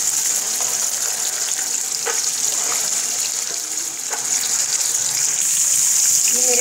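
Vegetables and peas fry in a pan for a vegetable and chicken biryani, a steady loud sizzle with a watery hiss throughout, a few light clinks, no voices.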